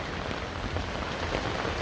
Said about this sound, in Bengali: এবং আরও বৃষ্টি হচ্ছে